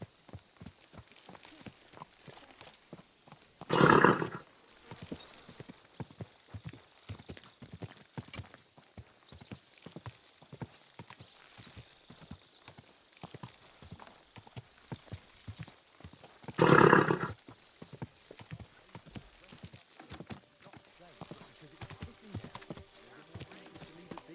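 Horse hooves in Kingdom Come: Deliverance II clip-clop in a steady, quick rhythm throughout, with two short louder bursts of rushing noise breaking in along the way.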